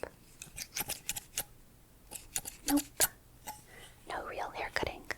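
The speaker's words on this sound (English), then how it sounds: "I'm just moving the scissors around." Metal scissors snip and click right beside the ear in quick irregular bursts, each crisp and close, with soft whispering running beneath them.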